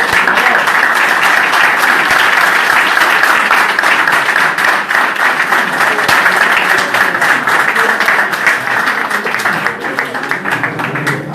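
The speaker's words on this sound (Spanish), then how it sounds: "un gran aplauso al expositor." A lecture audience at a talk on electronic voting in Ushuaia breaks into sustained applause, dense, loud and even clapping that fills the room for about eleven seconds before tapering slightly at the end.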